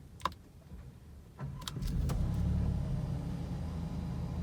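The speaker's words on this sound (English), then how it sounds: "To start the car, press on the start-stop button, which is located on the steering wheel, and then press the gas." Alfa Romeo Stelvio Quadrifoglio SUV started with the steering-wheel start-stop button: a few sharp clicks, then the engine cranks and catches into a loud, close, steady idle rumble.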